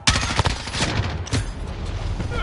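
Dense gunfire during a Modern Warfare multiplayer match, with rapid bursts and sharp cracks running continuously for the whole stretch, loud and close, plus a heavier blast partway through.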